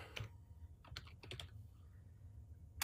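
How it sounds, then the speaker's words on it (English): Someone typing a PowerShell command on a computer keyboard, producing a few scattered, faint keystrokes with quiet pauses between them. "we're going to try to type this freehand live"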